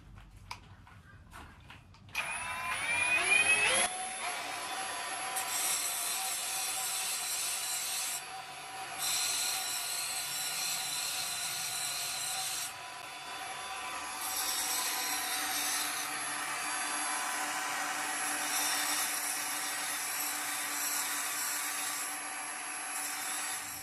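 A hand-held sander grinds a bevel onto the edge of a rock pendant, a steady high whine with rasping friction that pulses as the stone is pressed and eased off, close and alone.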